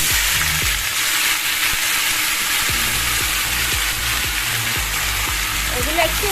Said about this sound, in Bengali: ওল আর আলুটা একটু ভাজা ভাজা করে নিচ্ছি